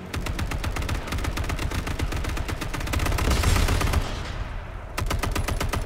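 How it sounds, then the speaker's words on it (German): Enemy gunfire in the H1Z1 Battle Royale video game: rapid, dense automatic bursts crackle almost without pause, swelling louder near the middle, breaking off briefly, then returning close and sharp. "Er schießt auf mich."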